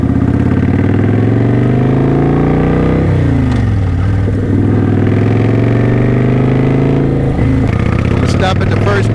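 A motorcycle engine hums and revs with rising and falling pitch during slow riding practice in a lot, loud and close throughout, with a person talking over it.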